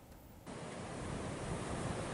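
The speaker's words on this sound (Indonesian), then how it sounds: "gelombang pantai di kawasan selatan Gianyar yang pasang" Ocean surf on the south coast of Gianyar, Bali during high swells, a dense and constant roar of breaking waves that swells up after a brief quieter start, with no voices.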